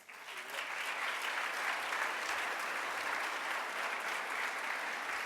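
Audience applause at the University of Iowa College of Nursing commencement in 2013, welcoming Provost Butler: steady sustained clapping from a large crowd in a hall, rising quickly and holding even throughout.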